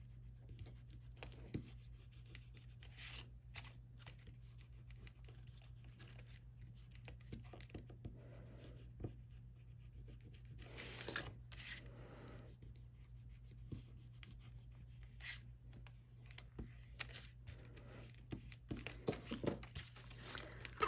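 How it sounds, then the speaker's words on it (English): An eraser rubs stray pencil marks off paper while making a photo banner mini album: quiet, irregular scrubbing strokes and light paper scrapes over a low steady hum. "now we just need to erase the extra marks here"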